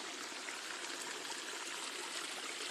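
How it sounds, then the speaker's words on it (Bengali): Steady, broadband rushing from a small perennial waterfall at Pachgram near Badarpur, Assam, heard up close as a continuous, unvarying wash of falling water, alone and without speech. "ঝর্ণা আসছে ঝর্ণাটা"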